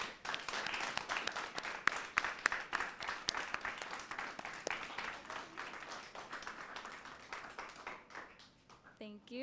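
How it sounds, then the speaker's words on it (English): Audience applause for Barry Buccaneer staff members standing at a university speech and debate competition, a dense, sustained burst of many hands clapping that fades toward the end. "please the audience give them a round of applause for their hard"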